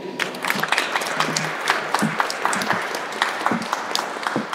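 Applause for a finance graduate named Valentina at a conference session on foreign graduates of Polish universities; steady clapping from a room of people with scattered louder claps and a few faint voices underneath.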